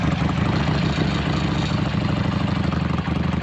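A 2003 carbureted Harley-Davidson Sportster 883 motorcycle with no mufflers runs steadily and loudly at idle, a deep continuous pulsing rumble close by.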